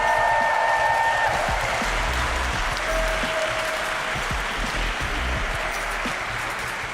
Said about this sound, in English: please give yourselves a round of applause for being so amazing every year.